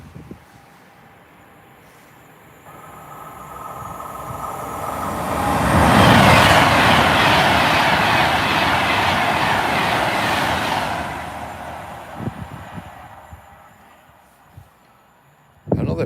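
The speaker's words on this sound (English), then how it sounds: "Another Pendolino." A Pendolino train passes along a rail line, its rumble swelling from a distance to a loud broad roar at the peak and then fading away, with a few faint knocks afterwards.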